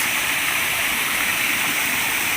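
Rushing river water fills the scene with a loud, steady roar, constant and close with no break.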